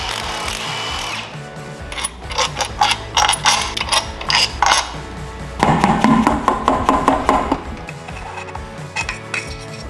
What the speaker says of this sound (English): Remove the 9 bolts on the crankcase cover.